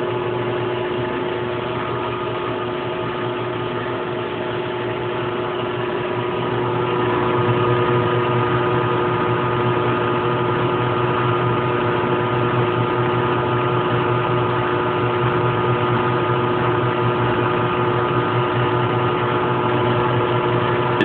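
A twenty-year-old Brastemp Baby Mondial top-loading washing machine spinning at about 760 RPM, a steady, smooth motor hum with a constant tonal whine, loud and continuous, growing slightly louder partway through.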